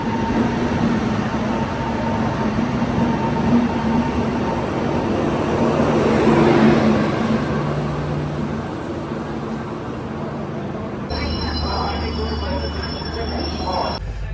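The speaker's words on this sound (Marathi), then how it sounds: "आणि फायनली ट्रेन आलेली आहे." A train pulling into a station platform, its steady rumble of wheels on rail with a long metallic squeal of the wheels, growing louder midway, then a loud high brake screech and low hiss near the end, with faint background voices.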